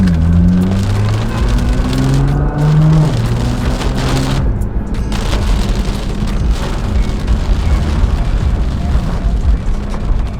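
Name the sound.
heavy rain storm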